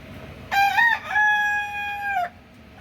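A farm rooster crows once nearby, loud and clear, a rising first note breaking into a long sustained tone before trailing off, with a faint background behind it.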